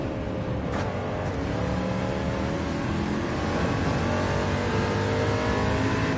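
Chaparral 2J fan-assisted vacuum race car in Gran Turismo 7 at Watkins Glen, its engine a loud, steady, close howl with layered harmonic tones, holding a constant pitch throughout with no voices.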